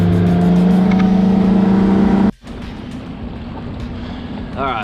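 A bass fishing boat's outboard motor hums steadily and loudly on Lake O' the Pines, then cuts out abruptly, leaving softer water and wind noise.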